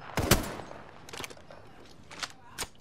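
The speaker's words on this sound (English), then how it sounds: "Are you guys just shooting?" Scattered gunshots in Apex Legends, a sharp close crack followed by a few quieter, more distant shots spread irregularly across a few seconds.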